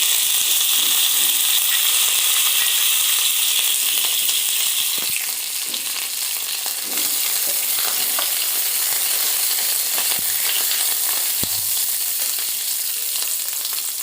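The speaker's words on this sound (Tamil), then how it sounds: "இப்போ நம்ம எடுத்து வச்சுருக்க சீரகம் அப்புறம் வெந்தயத்தை ஆட் பண்ணிக்கலாம்" Cumin, fenugreek, curry leaves and garlic crackle in hot oil as a close, steady sizzle, with a brief louder burst of spluttering partway through; no voices.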